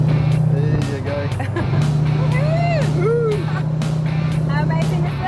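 A hot rod car is driven under power through a corner, its steady low engine drone loud and close throughout while people talk over it.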